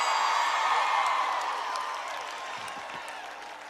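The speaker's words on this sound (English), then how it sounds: "Come on, clap your hands loud and shout amen in this place." A church congregation claps and shouts during a sermon. The crowd noise is a steady, loud wash that slowly eases off, with occasional whoops and voices.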